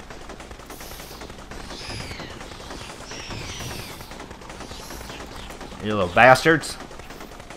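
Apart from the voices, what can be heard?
assault rifle gunfire in video game Dropship Down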